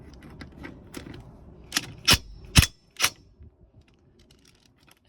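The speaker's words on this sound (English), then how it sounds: "Impact gun says no as well." An impact gun strains at a stuck Volkswagen number-plate holder bolt, firing three short, loud rattling bursts close by, with quiet clinks and handling noise in between.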